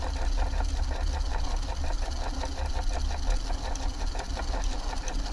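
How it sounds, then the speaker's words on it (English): A VHS tape cleaning machine making a slow pass over a mold-damaged tape, giving off a steady mechanical whir and fast rhythmic clatter that is loud and close and continues without a break, with no one talking. "So we'll just do a slow pass on this cleaner."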